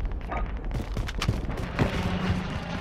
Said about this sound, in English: I don't know where this guy's shooting us from.